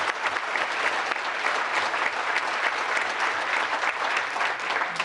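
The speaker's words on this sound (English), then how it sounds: "Let's give each one of these boys and their coach a round of applause." Round of applause for a boys' team and their coach at a town council meeting, dense steady clapping from the room throughout.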